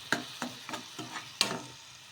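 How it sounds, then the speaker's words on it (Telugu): Tomato paste stirred into onions in a hot pan, with a spoon scraping in a slow rhythm of about five strokes over a soft continuous sizzle, close and fairly quiet. "ఇలా టమోటా పేస్ట్ వేసుకున్నాక ఒకసారి బాగా కలిపేసుకొని కొంచెం పచ్చి వాసన పోయే వరకు మగ్గించుకుందాము"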